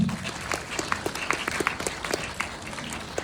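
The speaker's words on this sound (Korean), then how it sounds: "먼저 박수 부탁드릴게요" Audience applause at a Korean film academy graduation screening festival, scattered individual claps rising out of a light, steady wash of crowd clapping, moderately loud and continuous.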